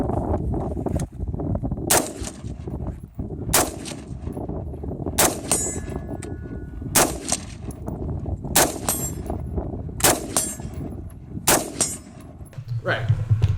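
Smith and Wesson M&P15 Sport rifles fire about a dozen loud, sharp single shots outdoors, spaced roughly a second or so apart, each with a ringing metallic tail.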